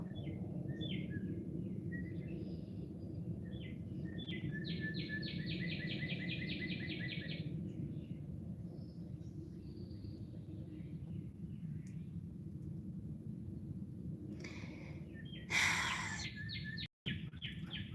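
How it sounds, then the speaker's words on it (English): Birds chirp in short repeated bursts over a steady low background hum, fairly faint, with a brief louder noise near the end. "Those birds just got louder."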